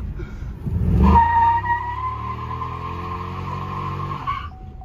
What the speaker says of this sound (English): does a way better burnout with traction control off